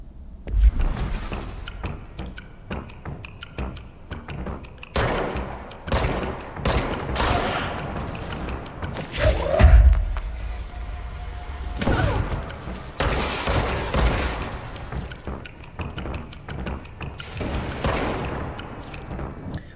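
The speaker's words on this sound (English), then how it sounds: "I think we're gonna get our shotgun up in this." Shotgun blasts and other gunfire in the video game The Last of Us, a burst of sharp, loud shots coming in irregular clusters with dull thuds and booms between them, and no voices heard.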